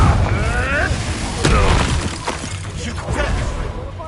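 A Confringo fire-blast spell going off in Hogwarts Legacy, a loud booming burst with crackling, shattering debris over a rumbling game backdrop, followed by smaller pops and impacts.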